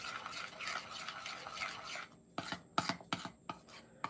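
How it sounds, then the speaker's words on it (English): A spoon stirs melted chocolate melts in a bowl. A soft continuous scraping is followed by several distinct, louder scraping strokes in quick succession, with no talking. "so we're stirring a little bit more just to see if that heat melts the residual"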